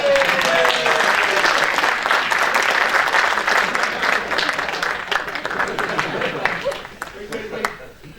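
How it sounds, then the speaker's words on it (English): An audience at a conference Q&A breaks into dense clapping that is loud at first and gradually thins and fades, with a voice briefly heard over it. "Give him an applause."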